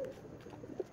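Pigeon from a breeder's stock of quality pairs sold for eggs and chicks, giving a short, soft coo near the end of a quiet second, with a faint earlier call at the start.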